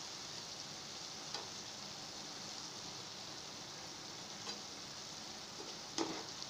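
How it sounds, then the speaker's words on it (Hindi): Gulab jamun frying in hot oil, a soft continuous sizzle and bubbling crackle running evenly throughout, faint overall, with a few light clicks as the balls are stirred and turned. "गोल्डन ब्राउन कलर पर्यंत आम फ्राई करवा।"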